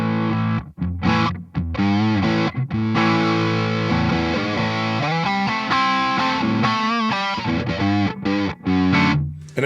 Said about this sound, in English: if you turn the reverb all the way off, you can just use it as a drive pedal